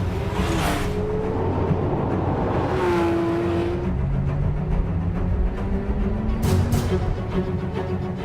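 A 2017 Porsche 911 R, the 991-generation model with a 500-horsepower engine that revs to 8,500 RPM, drives along with a steady, loud engine note that rises and falls in pitch through the gears.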